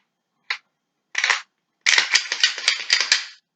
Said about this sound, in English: Dry fire, no magazine. Glock 26.